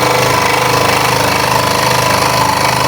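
A scroll saw cuts a Halloween project near the end of a cut, its blade chattering in a loud, steady, continuous buzz that never lets up.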